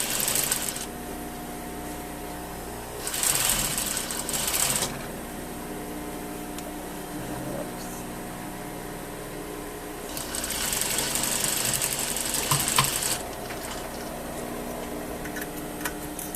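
A sewing machine stitching around a welt pocket bag, its fast rapid ticking needle running steadily and close, with louder bursts of higher-speed stitching around three and ten seconds and quieter running in between.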